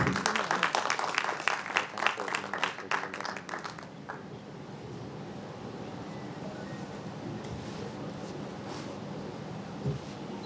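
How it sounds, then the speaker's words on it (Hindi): Loud applause from a crowd fills the opening seconds, then fades into a quieter room murmur with scattered claps and faint voices. "एक बार जोरदार तालियां हो जाएं।"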